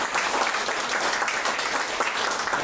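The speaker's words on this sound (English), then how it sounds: "That's an applause line right there." Dense, steady audience applause fills a political rally for a delegate candidate, loud and close with many hands clapping continuously and no speech over it.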